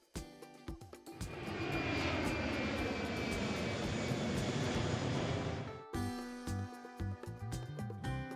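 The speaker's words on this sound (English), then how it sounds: "Airplane." Loud roar of an airplane engine swelling and holding for several seconds, then cutting off abruptly, followed by light music.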